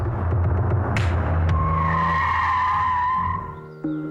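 A car speeds along and its tires skid, giving a loud, drawn-out squeal over a throbbing engine that fades after a few seconds and ends with a brief knock.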